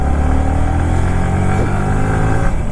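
A motorcycle engine revs continuously and loud as the bike sets off onto a service road, a dense steady drone with a slight pitch rise partway through and no voices.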